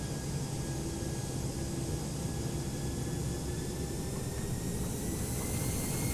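Airbus airliner jet engines spooling up at partial throttle in X-Plane 11, a steady broadband roar with a faint rising whine, continuous and fairly loud throughout with no talk.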